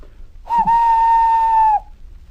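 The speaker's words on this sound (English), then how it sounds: "Thomas in return always whistles" A steam engine whistle gives one steady, clear tone lasting just over a second, loud and close, with no talking.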